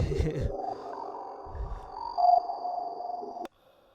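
A dark alien effect from the Serum synthesizer, with a sharp, ringing resonant peak, sweeps and sustains for a few seconds and then cuts off abruptly. Brief voices sound at the start.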